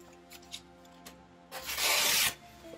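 Wet 600-grit waterproof sandpaper, wrapped on a sponge, scrubs a badly damaged car headlight: a few faint ticks, then one short, close rasping stroke that swells and stops abruptly.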